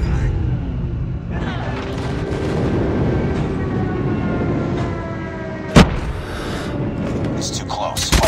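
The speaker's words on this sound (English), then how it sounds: "Friendly airstrike incoming." A single sharp blast from an in-game airstrike punches through a steady droning, whining background of aircraft and battle noise, with a loud, close impact near the end.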